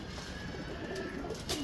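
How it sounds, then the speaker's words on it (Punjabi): Pigeons in a loft colony give a faint, soft cooing that sits low under a hissy, airy background. It is brief and distant-sounding, with no voices. "ਇਹ ਦੇਖੋ ਕਬੂਤਰ ਬੜੇ ਅੱਛੇ ਕਬੂਤਰ ਬੈਠੇ ਆ"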